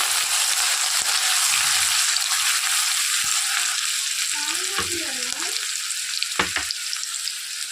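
Green chilies and onions fry in a pan for a homemade sandwich filling, a steady close sizzle with occasional stirring scrapes and clicks, no talk.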